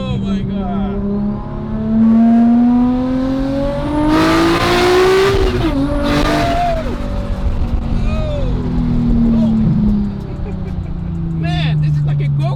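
A Nissan R34 GTR with around 500 horsepower roars under hard acceleration from inside the cabin, its engine note climbing and shifting through gears with loud turbo rushes, while people talk and exclaim over the noise.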